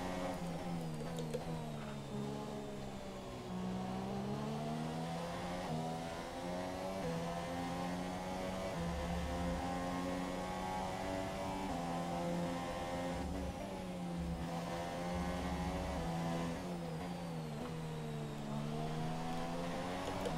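Formula 1 race car engine in the F1 2017 video game, a sustained high whine that rises and dips as revs change, steady and fairly quiet throughout with no talking.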